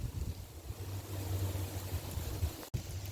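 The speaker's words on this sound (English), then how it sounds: "It's very windy." Gusty wind blows during a storm in metro Phoenix, a steady broadband rush with low rumbling buffeting against the microphone, continuous throughout with a brief sharp dropout near the end.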